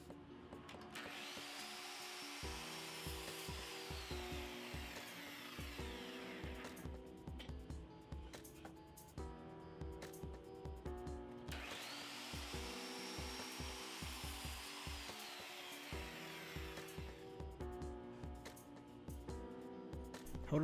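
Wood being sawn into two short 1½-inch straight pieces for a game-controller stand: steady, rasping back-and-forth strokes run throughout, fairly loud and close, with a tonal background hum underneath.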